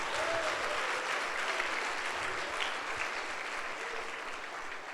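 A church congregation applauds during a Sunday service, a steady wash of many hands clapping that holds at an even level throughout with a faint voice or tone drifting over it.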